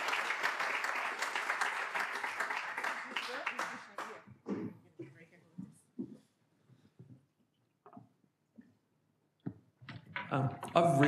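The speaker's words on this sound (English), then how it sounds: "Can we give you a round of applause?" Audience applause at the end of a conference talk on accessibility, a dense burst of clapping for about four seconds that thins into scattered claps and fades, with a few faint voices.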